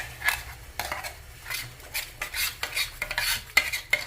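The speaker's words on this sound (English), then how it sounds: "Let's add the onion tomato masala and mix well." Onion tomato masala scraped and stirred in a pan for paneer butter masala, a series of close metal spoon strokes and soft scrapes in an irregular rhythm, with faint sizzling underneath.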